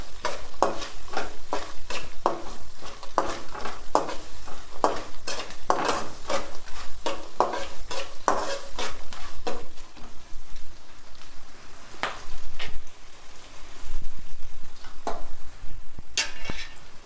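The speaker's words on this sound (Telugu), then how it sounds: "ఉల్లిగడ్డ పచ్చిమిర్చి మంచిగా వేగాలి." Onions and green chillies fry in a pan for upma, stirred with quick rhythmic scraping strokes over a loud continuous sizzle, the stirring slowing and spacing out toward the end.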